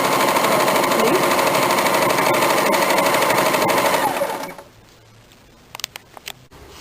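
An electric sewing machine stitches along the sleeve edge of a kurti in a home tailoring setting. It runs in one fast, even, close-up burst of about four seconds, then stops, leaving a few light clicks in near quiet.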